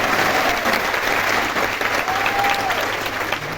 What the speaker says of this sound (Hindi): अरे बजा लिया ताली, बजा लिया।